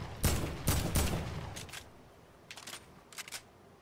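Gunfire sounds from the video game Fortnite: three crisp shots in quick succession, then a few fainter scattered shots, all fairly quiet with short gaps between.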